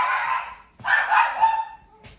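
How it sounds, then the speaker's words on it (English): A large dog barks loudly and close by indoors, two or three sharp, strained barks with a short pause between them and a faint yip at the end. "My dog is loud."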